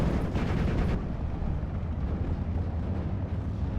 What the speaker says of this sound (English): So the mortar firing away.